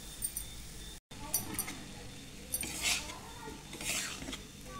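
A utensil scrapes and clinks in a pan as gram flour roasts in ghee, with soft intermittent stirring and faint sizzling close by.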